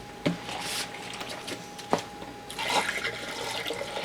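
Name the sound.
rinsing and swirling water in brewing containers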